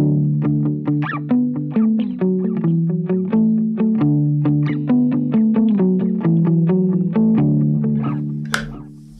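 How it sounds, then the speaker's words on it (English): Electric guitar played through a small tape delay pedal on a worship pedalboard, a steady stream of picked notes with repeats trailing and overlapping, filling the space with a loud, continuous ambient wash, no talking. "Even my small tape delay fills up a lot of space because I just like space being filled up by delays."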